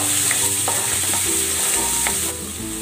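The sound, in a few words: garlic sautéing in cooking oil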